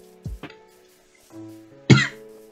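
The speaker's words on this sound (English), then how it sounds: "rather long cough, I must say" A man playing a video game coughs in a few harsh bursts, close to the microphone, separated by brief quiet gaps over a soft background tone.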